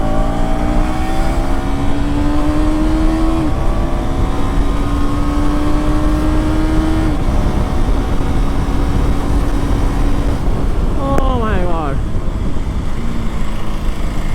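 A KTM Duke 250 Gen 3 motorcycle accelerates hard on an open road, its engine note climbing through several gears with brief drops at each shift, loud and close over steady wind rush.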